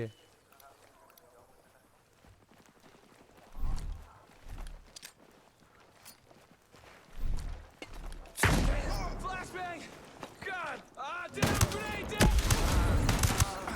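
Shotgun blasts from the tactical shooter game Ghost Recon Breakpoint: a few loud, sharp shots spaced apart, then a dense burst of repeated firing near the end, with quieter game ambience between.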